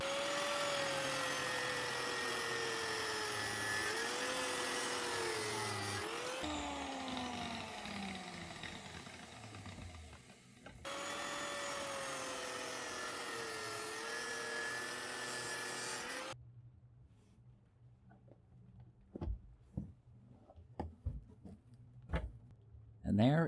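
A power tool cuts through the copper windings of a motor armature close to its steel shaft, giving two long, loud bursts of high whining, grinding noise separated by a pause, then quieter handling knocks and thumps.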